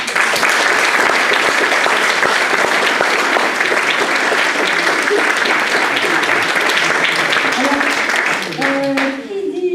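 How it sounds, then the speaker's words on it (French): An audience at an interfaith gathering applauds the speakers with loud, dense clapping that holds steady, then tapers off near the end as a voice begins speaking. "je crois qu'on peut applaudir nos intervenants"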